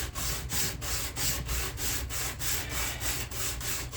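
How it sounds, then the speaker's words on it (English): Flat lumber rubbed back and forth on 60 grit sandpaper gives a steady, close rasping scrape in an even rhythm of about three strokes per second, with no voices. "I got some 60 grit sandpaper on a piece of lumber here that I'm fairly certain is flat."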